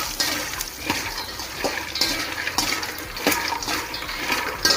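Curry leaves and makhana sizzle and crackle in hot oil, a steady bright hiss with irregular spitting pops throughout, close and fairly loud with no voices.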